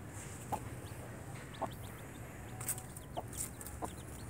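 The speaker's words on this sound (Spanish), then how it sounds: "Ahí están Marquitos, Turuleca y los pollitos." Backyard hens and chicks cluck softly in a faint, scattered series of short calls over a steady low background hum, with a few thin, high chick peeps in the latter half.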